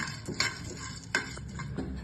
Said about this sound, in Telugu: ప్యాన్ హీట్ అయింది. ఇప్పుడు పంకిన్ సీడ్స్, సన్ఫ్లవర్ సీడ్స్ 2 వేయించుకుందాం.